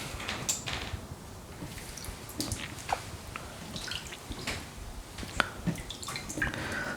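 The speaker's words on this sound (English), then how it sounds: "just splash the water and go" Water splashed onto a Japanese whetstone during knife sharpening, heard as scattered drips and wet splatters over a low background hiss, with no talking.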